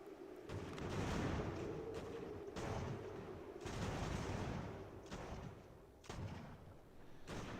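Artillery fire rumbles in the video game Ultimate General: American Revolution. Several heavy booms and thuds follow one another every second or two, and a steady low drone sits under them.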